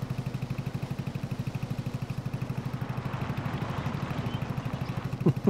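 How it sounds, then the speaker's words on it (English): A tractor engine doing field work chugs in a steady, rapid rhythmic putter at moderate distance, with a couple of sharp clanks near the end. "The way his tractor sounds."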